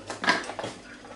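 A knife chops a piece of celery into thick chunks for homemade vegetable broth, with two or three quick, close thuds on the board.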